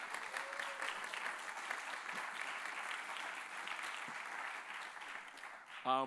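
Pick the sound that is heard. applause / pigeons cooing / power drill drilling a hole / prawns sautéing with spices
applause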